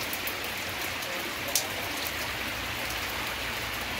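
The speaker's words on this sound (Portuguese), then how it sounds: "Muita chuva mesmo." Heavy rain pours down steadily in a town during a storm, a dense continuous hiss of falling water with a few brief louder drips, no voices.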